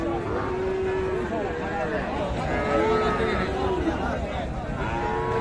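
Young bull calves and cattle low and moo repeatedly at a busy rural cattle market in Raniganj, the long calls rising over a steady crowd chatter and people talking nearby.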